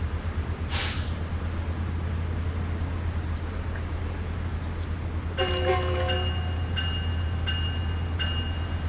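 A Long Island Rail Road M9 train rolls past without power in Train Sim World 6, a steady low rumble with a brief whoosh, then a string of sustained electronic chime tones near the end.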